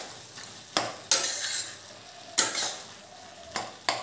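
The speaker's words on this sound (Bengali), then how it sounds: "চিংড়ি মাছটা দিয়ে একবার নাড়িয়ে নেব।" A utensil scrapes and clanks in a pan as fried prawns are stirred into a simmering ash gourd ghonto. Several sharp, separate strokes rise over a soft background sizzle.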